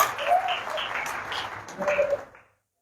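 Church congregation clapping hands during a sermon, a loose patter of claps under a voice speaking over it, tapering off to silence at the end.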